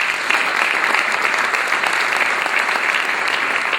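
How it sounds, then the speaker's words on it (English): A large audience at a community celebration gala breaks into a dense, sustained round of applause, many hands clapping loudly and evenly throughout with no voices standing out. "So please give yourselves a big round of applause."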